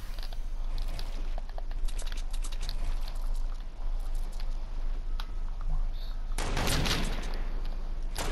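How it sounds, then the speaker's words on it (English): Sniper gunfire rings out in a Fortnite match, with scattered sharp cracks and a loud burst near the end over dense, busy game noise. "Pretty sure he's trying to shoot me through a crack."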